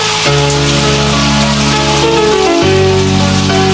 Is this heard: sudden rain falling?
yes